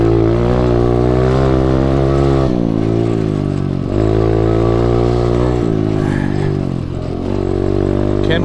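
An SSR125 pit bike engine revs loud and close while being ridden on a trail, a continuous buzzing drone that dips and climbs in pitch through a few throttle changes.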